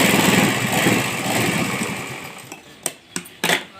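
A sewing machine stitches the side seams of a ladies' crop top, giving a loud, steady, close mechanical whirr that runs and then stops, followed by a few sharp handling clicks.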